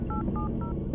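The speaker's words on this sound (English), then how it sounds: "I dialed 911." Three short two-tone telephone keypad beeps dialing 911, evenly spaced over a steady low background hum, no voices.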